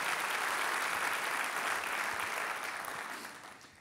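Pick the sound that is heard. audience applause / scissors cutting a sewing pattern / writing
audience applause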